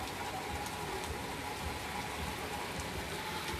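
Steady rainfall during a rainy day, a dense, continuous hiss of drops on surfaces that holds evenly throughout.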